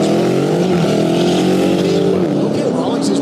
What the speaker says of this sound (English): He's spinning his tires, Richard.